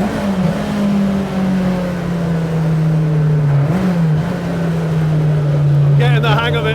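A Ford Mk1 Twin Cam Escort continuation car with a straight-cut gearbox drives along, its engine drone and gear whine sustained and loud from inside the cabin, dipping briefly before settling, with a voice speaking near the end.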